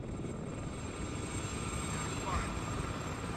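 An Mi-24V helicopter in the video game WARNO gives off a steady, low rotor and engine drone that stays fairly faint and even throughout.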